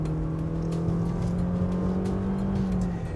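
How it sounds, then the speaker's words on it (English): The 2021 Toyota C-HR's engine revs under its CVT, holding a steady elastic drone as speed builds, a continuous rubber-band-like hum heard from inside the car. "It doesn't have a traditional first gear like the Corolla does, so you sort of get the rubber bandy sound."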